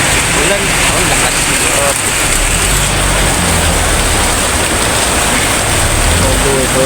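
Steady, loud roar of heavy rain fills the whole clip, dense broadband hiss with no breaks.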